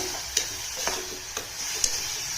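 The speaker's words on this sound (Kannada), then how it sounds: "ಒಂದು ಮೂರ್ನಾಲ್ಕು ನಿಮಿಷ ಚೆನ್ನಾಗಿ ಬೇ ಫ್ರೈ ಮಾಡಬೇಕು" Lentils frying in a tempering of oil, with a faint steady sizzle broken by a few sharp crackling pops at intervals.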